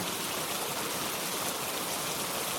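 Steady rain falls near Mattupetty dam in Munnar, Kerala, a dense, even hiss that fills the whole stretch without pause or voices.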